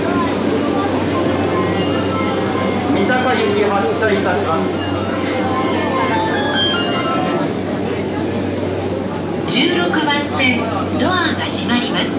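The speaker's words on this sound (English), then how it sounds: "It's a Tokyo Metro train." A Tokyo Metro subway train rumbles along with a steady low drone and rising, shifting whine, loud and close, with brief brake-like squeals near the end.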